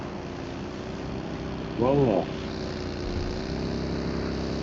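Steady airplane engine drone in the PUBG Mobile game on the Erangel map, a constant propeller hum through the whole stretch with a brief spoken word over it.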